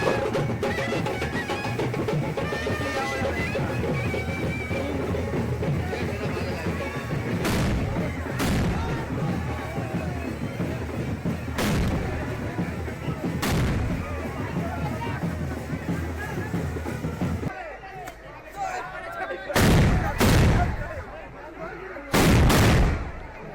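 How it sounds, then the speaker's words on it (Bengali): Firecrackers burst at a neighbourhood Kali Puja celebration, loud sharp bangs ringing out one after another over a steady crowd babble, with a cluster of heavy blasts near the end as the background noise thins. "এখানে বাজি ফাটানো শুরু হয়ে গিয়েছে"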